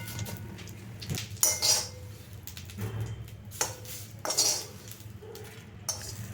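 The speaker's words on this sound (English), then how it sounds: "Roast curry leaves in the same pan with same oil. Roast till the make sounds like that." Curry leaves roast in oil in a pan, sending out faint crackles and sizzles alongside occasional metallic clinks and scrapes from the pan and utensil.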